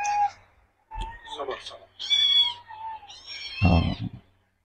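A cat stuck inside a pipe meowing in several separate, drawn-out cries with short gaps between them, close and somewhat hollow, with a voice talking briefly over one of them.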